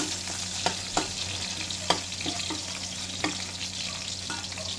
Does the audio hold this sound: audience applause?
no